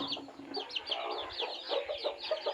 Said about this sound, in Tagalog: Buang ang mga manok guys.